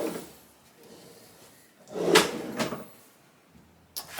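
Soft close drawers shut in a mobile home bathroom, a couple of muffled wooden thuds with light sliding rumbles before each, close and moderately loud, nothing spoken.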